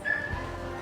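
A dog lets out a short whimpering yip during an obedience training session, a brief high whine that rises near the start and fades over under a second, close and fairly quiet.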